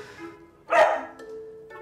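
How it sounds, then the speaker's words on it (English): A dog barks once, a single loud close bark against a quiet background tone, with no speech. "What's he going to do now? He's barking, right?"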